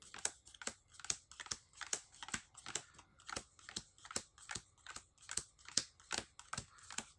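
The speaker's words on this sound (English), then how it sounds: "we're just going to separate these cards" Magic: The Gathering cards are dealt out into piles one at a time, producing a quick, regular series of crisp light card snaps and flicks, close and quiet, with no talking.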